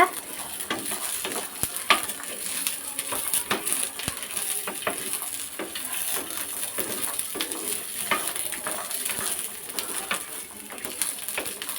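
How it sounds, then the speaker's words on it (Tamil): Onion and garlic sauté in a pan for a garlic chutney, a steady faint sizzle broken by repeated scraping and clinking of a spoon stirring, with no talk. "பூண்டையும் சேர்த்துட்டு நல்லா வதக்கிக்கோங்க"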